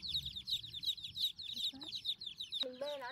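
A flock of chickens clucks close by in rapid, busy bursts that continue throughout, with a louder squawk near the end.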